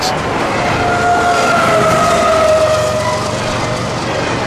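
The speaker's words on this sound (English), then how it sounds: "That DP unit is not idling anymore. He's running wide open, pulling his part of QO26." A freight train's distributed power locomotive runs at full throttle, a loud, steady diesel roar with a sustained tonal whine that holds for several seconds without a break.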